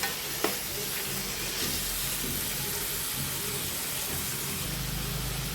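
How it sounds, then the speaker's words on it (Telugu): Tomatoes dropped into a pan of onions softening in hot oil, with a short clatter near the start, then a steady, close sizzle that runs throughout. "ఉల్లిపాయలు అయితే నూనెలో మగ్గిపోయాయండి. ఇప్పుడు టమాటాలు వేస్తాను."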